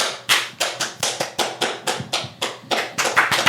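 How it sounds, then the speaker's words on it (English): A run of about fifteen sharp hand claps at a steady, quick rhythm, close and loud, made by podcast hosts at the start of a recording. "5, 4, 3, 2, 1. See clap."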